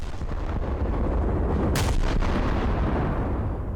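Main guns of the battleship Scharnhorst fire in the War Thunder game with a deep, rumbling boom that fills the whole stretch, and one sharp crack rises out of the roar just before the midpoint.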